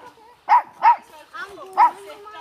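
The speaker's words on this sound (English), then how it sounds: "What a dog." A dog barks three times, up close and fairly loud, beside a river where horses are being bathed, with voices heard between the barks.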